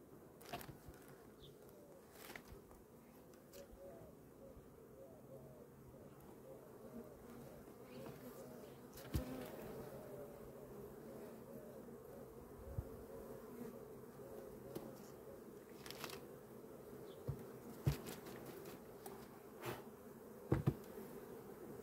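A steady, dense buzzing of many honey bees at hives fills the whole stretch, with occasional soft knocks and rustles close by; no talking.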